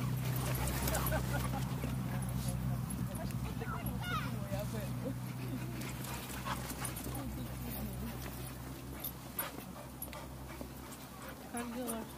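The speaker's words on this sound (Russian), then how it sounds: "Смотрите, как ее собаки бегают." Dogs running and romping outdoors during a relaxed holiday outing, with yips, soft barks and quick padding movement heard close by against steady background noise and nearby voices.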